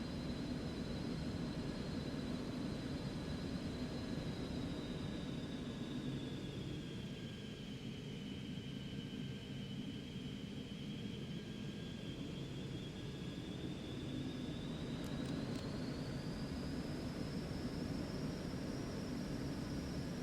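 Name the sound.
Cessna Citation Mustang jet taking off, flight simulator video game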